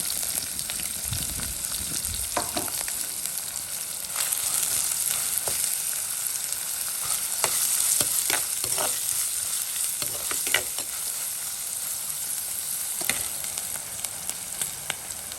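Onion, garlic and green chillies frying together for an egg and dried fish curry, a continuous bright sizzle with occasional stirring scrapes and pops, close and steady throughout.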